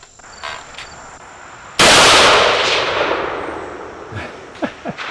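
A single sharp, loud rifle shot from a Savage B Mag .17 WSM at an outdoor shooting range, cracking suddenly and trailing off in a long decaying echo, with faint clicks afterward.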